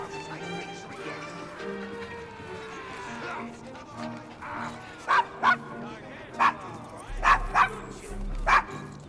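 Desmond, a dog wary of strangers, barks sharply about six times in the second half, loud and close, after softer yips and whimpers at the start.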